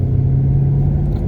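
A Shelby GT500 engine rumbles low and steady as the clutch is eased out in first gear, close and fairly loud with no talk.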